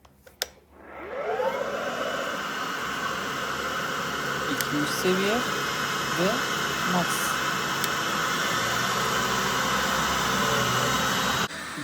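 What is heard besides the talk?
Miele Triflex HX1 cordless stick vacuum cleaner running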